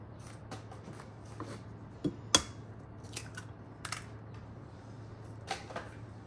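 Stuffing ingredients for cauliflower and potato bombs tipped into a salad bowl, giving faint scattered clicks, scrapes and light knocks, with one sharper tap, over a low steady room hum and no talking.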